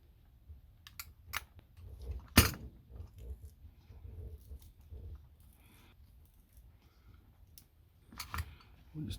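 A layer of a cheap Wal-Mart belt peeled back by hand, heard as quiet, close scratchy crackles with one sharp snap and a few scattered ticks.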